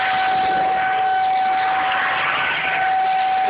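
A tornado warning siren wails steadily outdoors, a loud sustained tone holding unbroken over a distant, windy wash of background noise.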